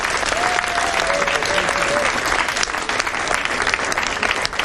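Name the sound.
audience applause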